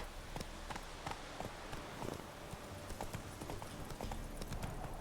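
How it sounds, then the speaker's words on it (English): Hooves of the horse Roach clip-clop steadily at a gallop in The Witcher 3: Wild Hunt video game, a continuous rapid rhythm of hoofbeats close by over a constant background wash, with no talking. "Whoa there, Roach."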